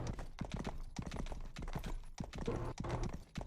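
Horse hooves in the game Rustler beat a quick, steady clip-clop gallop, close and loud, with rapid repeated impacts throughout.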